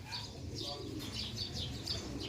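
Wild birds call near Tagaytay in a series of short, faint chirps repeating over a low background hum, with no talk.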